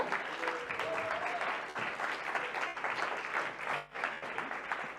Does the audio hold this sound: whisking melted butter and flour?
no